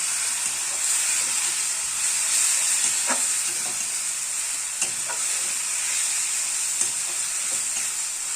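Ground masala spice paste fries steadily in a pan with a continuous close sizzle and hiss, broken now and then by the brief scrape of a spoon stirring, and no voices.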